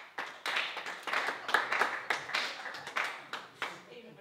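Sparse audience clapping at a live Portuguese stand-up comedy show, a handful of hands patting in uneven, separate bursts that rise and fade, fairly close and with no voices over them.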